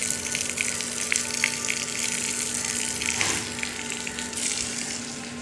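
Tap water gushes steadily into a sink at home for hand washing, a loud, continuous rushing stream with brief clatters on top and no talking.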